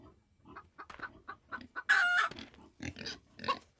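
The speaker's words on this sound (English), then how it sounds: "These look more like chickens to me." Chickens cluck in a Wild West Dynasty farmyard, a run of short close clucks with one louder squawking cry in the middle, heard alone without talk.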